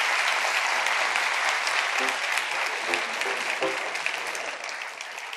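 Steady, dense applause from a television talk show studio audience, loud and continuous throughout, easing slightly toward the end, with brief faint voices rising underneath.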